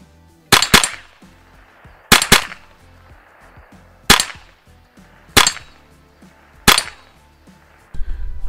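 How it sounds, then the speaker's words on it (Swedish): A hunting rifle fires five loud, sharp shots, a couple of them doubled with a quick echo, spaced about a second and a half apart outdoors, each cracking out and then dying away over quiet surroundings. "Vi tar några skott till bara för att det är roligt."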